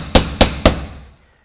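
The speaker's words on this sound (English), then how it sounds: "I'm going to take a wooden block and put it into the side lock." A hammer taps a wooden block set against a roof shingle at a shed dormer pitch-change transition. There are three sharp, evenly spaced knocks, close and fairly loud, and a short decay follows.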